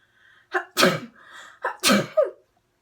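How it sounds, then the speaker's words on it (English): Two sneezes, each a quick sharp inhale followed by a loud explosive burst, close and clear with quiet between them. "I'm going to sneeze"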